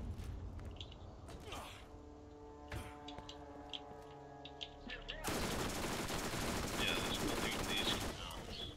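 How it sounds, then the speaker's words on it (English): Gunfire crackles in the shooter game Borderlands at the Old Haven location, with scattered shots and mechanical clicks giving way to a loud, sustained burst of rapid fire near the end. "I'm being shot at"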